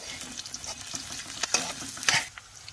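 Ginger for Cebuano balbacua is sautéed with garlic and onion in hot oil. A close, steady sizzle runs throughout, broken by repeated scraping stir strokes, and no voices are heard.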